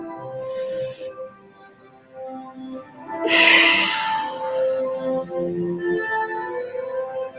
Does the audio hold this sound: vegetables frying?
no